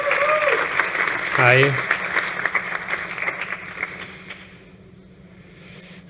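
An audience at a space tech startup competition applauds a founder taking the stage, with a short burst of clapping under a host's voice that fades out over several seconds.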